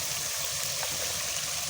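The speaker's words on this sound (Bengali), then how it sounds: "থেকে আমি যে শুটকিটা ধুয়ে নিব" Dried fish being washed in water: a steady, close rush of running water with a faint splash, continuous through the short moment.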